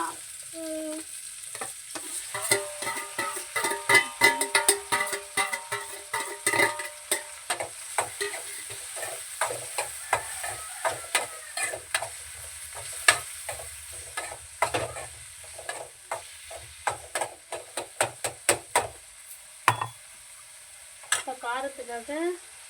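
Onions and tomato frying in a pan while being stirred, with a steady sizzle and frequent scraping clicks of a spoon against the pan, close up and without talk.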